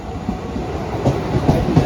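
A train rumbles through a station on a Mumbai to Konkan run, loud and close, with rhythmic wheel clatter and a low heavy roll that swells in the latter half.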